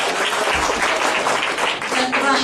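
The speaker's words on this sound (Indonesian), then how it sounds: "berikan tepuk tangan bagi Yesus." An audience at a church seminar claps together in a dense, sustained burst of applause, heard close and fairly loud throughout, with some voices mixed into the clapping.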